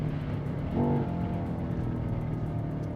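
A BMW XM's 4.4 litre V8 engine and quad stacked tailpipes rumble loudly and steadily throughout in M mode, with a brief rise in revs about a second in before settling back to a strong, close drone.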